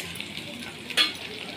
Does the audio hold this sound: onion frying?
yes